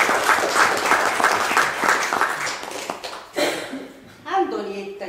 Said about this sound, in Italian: alla quale dobbiamo un caloroso applauso per aver mantenuto